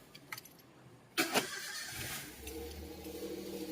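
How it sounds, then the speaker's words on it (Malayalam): A car engine cranks and catches with a sharp burst, then settles into a steady low idle that runs on to the end, heard close up in a quiet setting. "നമ്മളിപ്പോൾ വാഹനം സ്റ്റാർട്ട് ചെയ്യാൻ പോകണം."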